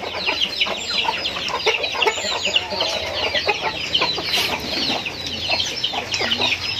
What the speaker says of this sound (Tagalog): Bali yung manukan ni Sir Jeff dito mga idol ay naka free range lang ano